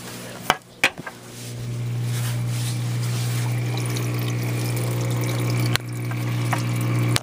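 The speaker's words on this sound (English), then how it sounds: "The skimmer is right there, and then water flows out of it onto that bag of carbon." Water pours steadily out of an aquarium protein skimmer onto a bag of carbon, a continuous trickling, splashing flow with a low pump hum beneath and a couple of sharp knocks near the start.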